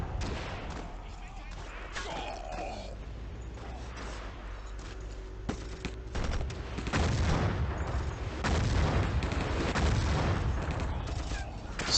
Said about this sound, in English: It does kind of help that they're all walking right into my grenades over here.